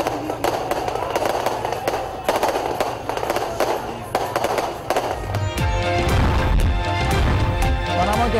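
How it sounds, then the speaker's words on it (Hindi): Fireworks crackle and pop at a Muslim League (N) political rally welcoming supporters on Hall Road, with rapid sharp bursts that thicken into dense continuous crackling in the second half, and a voice partly audible beneath. "आतिशबाजी भी हुई।"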